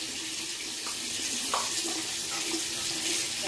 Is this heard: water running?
yes